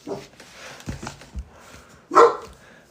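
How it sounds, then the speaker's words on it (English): A dog barks indoors in a few short, close barks, the last one loudest, with quieter yips and whimpers between them. "or you can listen to Max bark some more"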